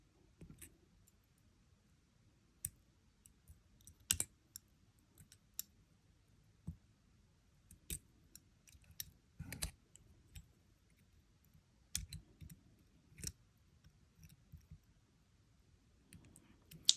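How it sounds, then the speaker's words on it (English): Bent chain nose pliers wrap jewelry wire around a loop, giving quiet, scattered metallic clicks and small taps at an irregular pace over a nearly silent background. "we're going to come in with our bent chain nose pliers and wire wrap this around"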